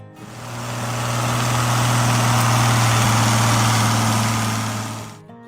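A Farmall 806 Diesel tractor idles with a steady, deep, even rumble that swells in and holds loud and close before tapering off at the end, with no voices.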